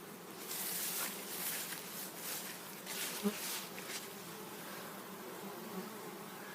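Honeybees buzz steadily around a hive fitted with a pollen trap, a soft continuous hum of many insects at middle distance that stays even from start to finish.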